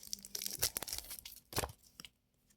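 Football card packs are torn open by hand in quick ripping bursts with crinkling foil wrapper, close and fairly quiet, fading to silence at the end.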